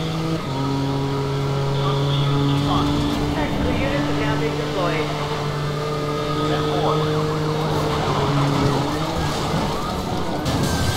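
Police siren wails on and off under a loud, steady engine roar in Need for Speed Most Wanted 2012, mixed with music and racing noise throughout.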